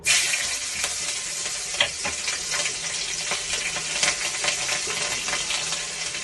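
Torn green chillies hitting hot oil in a wok make a loud, dense, crackling sizzle that starts abruptly and carries on steadily throughout, close by and without speech.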